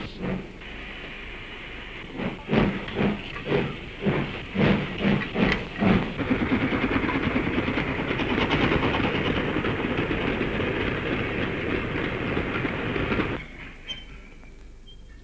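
Steam locomotive from a 1933 newsreel hauling a train, rhythmic chuffing exhaust beats building into a continuous roaring rush with rail clatter and hiss, then cutting off abruptly near the end.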